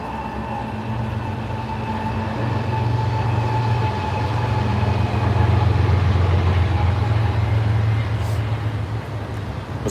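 A long double-stacked freight train carrying truck trailers rumbles past steadily, a loud continuous roar and wheel hum that swells mid-way, with no pauses.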